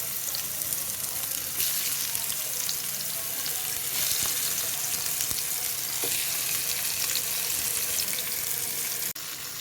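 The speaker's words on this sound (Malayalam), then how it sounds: "ഇതിലേക്ക് നമുക്ക് മീനും കൂടി ഇട്ട് കൊടുക്കാം." Fish sizzling and frying in coconut oil on a flat griddle, a steady loud crackle and hiss throughout with no speech.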